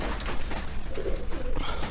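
Pigeons in a loft coo in soft, low, throaty murmurs, close by and steady over a dense, muffled background hum.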